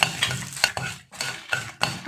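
Urad dal, fenugreek seeds and dried red chillies are stirred while roasting in a pan, giving a brisk scraping and rattling with soft sizzle in short bursts, close and fairly quiet.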